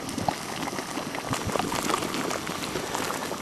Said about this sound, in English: Really a lot of water coming out of that and bubbling and popping and steaming.